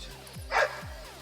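A hyper husky and Staffordshire mix dog gives a short whine and soft yip indoors, close and brief, with a quiet room around it.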